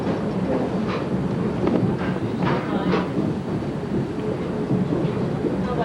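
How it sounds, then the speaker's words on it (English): Riding aboard the Valley Railroad Chester Express passenger train, a steady rumbling roll with faint clickety-clack and wind buffeting, while people talk nearby over the train noise. "Welcome aboard Valley Railroad's Chester Express."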